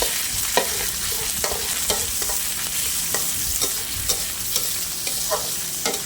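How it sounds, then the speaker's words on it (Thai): Pork is stir-fried with garlic in a pan for a water spinach dish: a steady sizzle runs under repeated spatula scrapes and clacks, close and fairly loud, with no voices. "แล้วก็จะใส่หมูลงไปเลย นี่นะคะ เราก็ผัดหมูให้สุกก่อนนะคะ"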